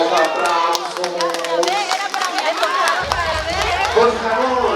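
Wedding guests clap during a bouquet toss at a celebration in Xochistlahuaca, scattered clapping mixed into lively crowd chatter and overlapping voices, with a low rumble joining partway through.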